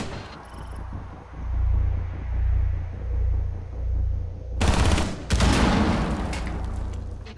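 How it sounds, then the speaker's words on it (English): Rapid machine pistol bursts ring out in Rainbow Six Siege during a Chalet hostage team deathmatch, loud and close, cutting in sharply over a low rumbling game background after several seconds of quieter ambience. "Machine pistol."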